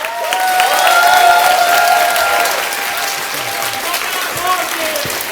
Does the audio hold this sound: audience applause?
yes